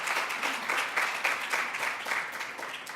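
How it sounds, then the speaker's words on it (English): A crowd at a startup-week keynote applauds an auction winner with a sustained round of clapping, individual claps standing out in a dense, fairly loud wash. "Come on, let's give him a big round of applause."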